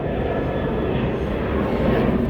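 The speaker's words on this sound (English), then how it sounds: "Big old Airplanes." Big old airplanes drone steadily overhead, a loud, continuous engine roar filling the whole stretch with no break or change.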